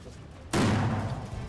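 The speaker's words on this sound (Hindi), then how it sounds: "बंद दरवाजों को धमाके से उड़ाने का भी अभ्यास किया गया।" Police on a drill blast open a closed door inside a building: one sudden loud explosive bang breaks out of quiet background noise, then its rumbling roar and echo trail off over about a second.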